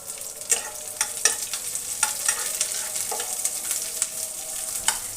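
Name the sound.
chopped onion being stirred and fried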